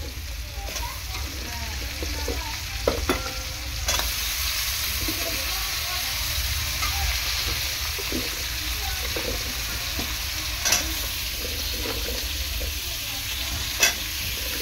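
Prawns with grated ginger stir-fried in a pan for homemade labra with pumpkin, potato and pointed gourd: a steady, close sizzle runs throughout, broken by occasional scraping stirs and light clatter, with no talking.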